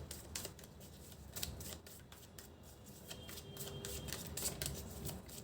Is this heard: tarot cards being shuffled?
yes